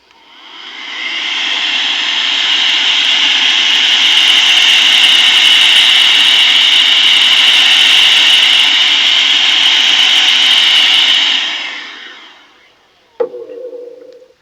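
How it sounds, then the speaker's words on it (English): A loud, close air blower hisses steadily for about eleven seconds while cleaning debris out of a wrestling championship belt, then cuts off, followed by a brief knock. "Got the old air blower. I'm just going to hit this because I know there's some little bits and stuff that are stuck in there."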